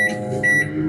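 Electronic beeps from a Homage oven as its 10-minute steam function is set, two bright tones close together and alone, with no speech.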